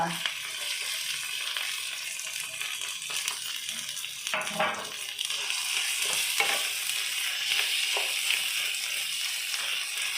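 Potatoes are stirred into fried onions in a pan for aloo bharta, with scraping, clattering stirs over a steady sizzle, close by and fairly loud.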